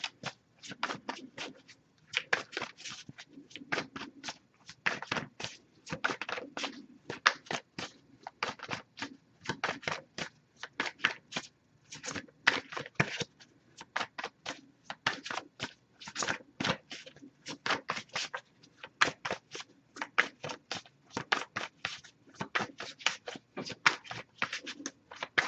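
Tarot deck being shuffled for a long stretch in a quiet room, close crisp riffles and card snaps coming in rapid irregular bursts with short pauses, no talk.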